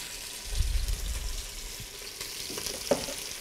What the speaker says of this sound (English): I'm going to throw my onions in here